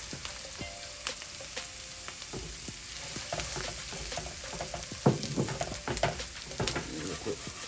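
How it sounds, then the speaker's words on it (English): Long grain parboiled rice tumbles into a sizzling seafood skillet, frying steadily with repeated stirring clatters and scrapes that grow busier toward the end, close and moderately loud. "now at this point, I'm going to add my rice"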